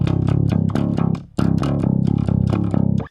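Bass guitar playing a riff, low plucked notes in a quick repeated rhythmic pattern with a brief gap midway, loud and close with no talking.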